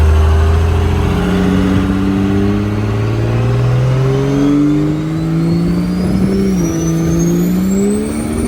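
A Cummins-swapped squarebody truck accelerates hard, its diesel engine roaring loudly and steadily as the pitch climbs through the gears, heard from inside the cab with no talking.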